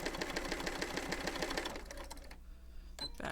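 A sewing machine backstitches along the edge of a fabric circle wallet, running in a steady rapid rhythmic chatter up close, then pausing briefly before a short restart.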